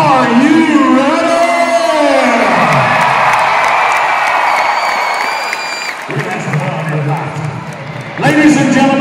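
Rodeo crowd at the 2016 Adirondack Stampede opening ceremony cheering, whooping and applauding loudly in a big arena, the roar sustained for several seconds before an announcer's amplified voice returns.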